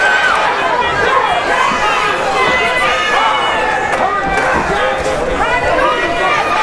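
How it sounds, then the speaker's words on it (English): Dense arena crowd roaring and chattering at a boxing match at the Barclays Center, Danny Garcia versus Erik Morales, a steady loud wall of voices with cheers swelling and falling throughout. "just a great crowd here at the Barclays Center"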